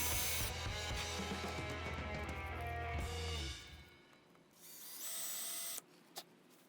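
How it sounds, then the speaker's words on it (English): Loud mechanical grinding and whirring of a drill boring a hole through metal gutter flashing, running steadily for about three seconds, then stopping, followed by quieter handling noises and a brief squeal. "I'm going to drill a hole that's the exact size of those posts."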